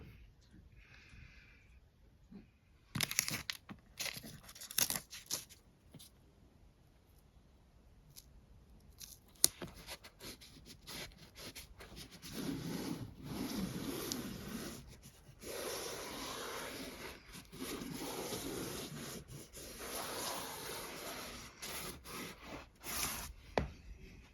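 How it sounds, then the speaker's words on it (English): Old tape being peeled and scraped off the back of a vintage hessian-backed picture frame, with intermittent close ripping and rubbing bursts separated by quiet pauses. "we'll get this horrible sort of tape off that someone has done and put some proper framing tape on it"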